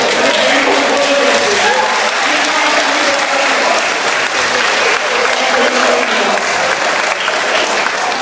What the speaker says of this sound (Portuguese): a gente vem entrando aqui e batendo palmas